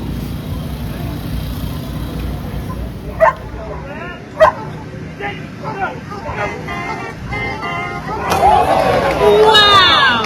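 Dogs bark at a DockDogs dog jumping contest at Dogfish Head Brewery in Delaware. A few sharp barks stand out over a steady crowd murmur and chatter, followed by a louder jumble of yips and excited voices.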